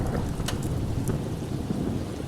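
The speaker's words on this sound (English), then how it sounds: "The rain poured heavily, and the thunder rumbled in the air." Heavy rain roars continuously with a deep rumble of thunder underneath, dense and loud throughout, with no voices.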